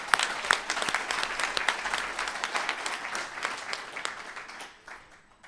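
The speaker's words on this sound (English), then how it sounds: "please give her a huge round of applause" An audience at an internal medicine residency certificate presentation claps loudly and steadily, the applause tapering off near the end.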